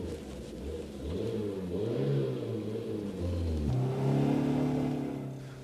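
A 1968 Simca 1100 with the 53 hp regular-fuel engine accelerates, its mid-pitched engine note rising steadily, dropping briefly at a gear change, then climbing again, heard close and continuous.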